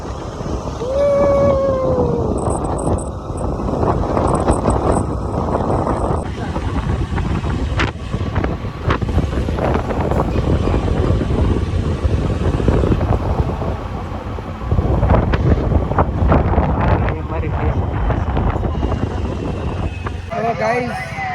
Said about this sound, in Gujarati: કોઈ ગરમ પવન તો લાગે જ છે